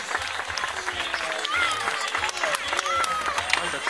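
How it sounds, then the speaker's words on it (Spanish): Audience applause for the seals Erika and Saba and their trainers at the Madrid zoo, a steady patter of clapping from a crowd mixed with chatter and a few high calls throughout. "quiero pediros un fuerte aplauso para Erika, para Saba y sus entrenadoras de Lidia"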